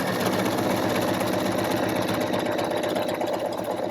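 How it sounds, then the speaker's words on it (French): A sewing machine stitches along the edge of stretched elastic on a pyjama, a dense continuous mechanical whirr holding steady and close throughout. "on va piquer sur le bord de l'élastique tout autour"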